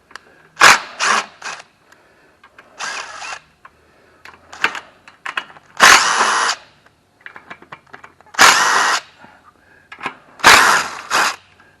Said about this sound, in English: got my DeWalt impact here